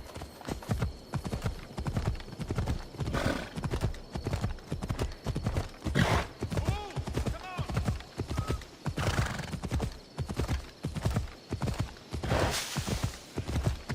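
Horse hooves clip-clop at a steady trot in the Assassin's Creed Odyssey video game, close and continuous for the whole stretch, with a few neighs and whinnies breaking in.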